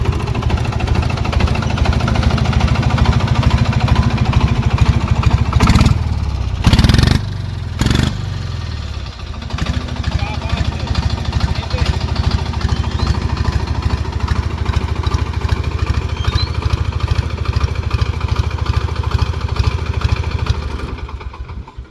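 A Captain 25 hp mini tractor engine runs steadily and loudly close by, with a chugging low rumble; a few louder bursts around the middle suggest revving before it settles back to an even idle.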